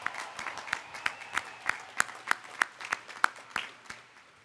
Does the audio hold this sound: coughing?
no